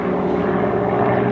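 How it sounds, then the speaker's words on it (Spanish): A helicopter drones loudly and steadily overhead, its engine and rotor forming a continuous low hum. "se han asustado porque ha pasado un helicóptero"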